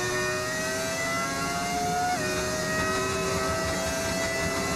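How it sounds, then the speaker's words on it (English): A Formula 1 car from the F1 25 game with an engine sound mod drones at a high, steady pitch and briefly drops in tone partway through, as if shifting gear, with no speech. "I think it's literally just like an engine sound mod."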